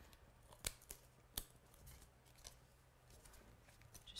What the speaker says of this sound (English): Chop this bit off with my scissors.